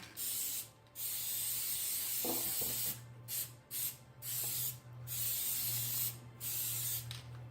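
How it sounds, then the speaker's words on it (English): Spray adhesive hisses loudly from an aerosol can in long bursts onto paper edges, stopping and starting repeatedly, with a low hum underneath and a faint clatter partway through. "I am really going to make sure that I spray the complete edges of this"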